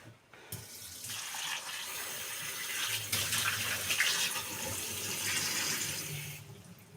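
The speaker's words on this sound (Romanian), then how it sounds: "Acum eu o scot de aici și o pun în apă rece." Water runs steadily from a kitchen tap into a sink or pot as a cooked onion is put into cold water while making stuffed onions, a continuous close splashing rush that swells midway.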